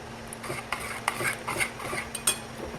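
A utensil stirs salt into pasta in a pot, giving a run of light, irregular metallic clinks and scrapes, fairly close and moderately quiet, with no talking.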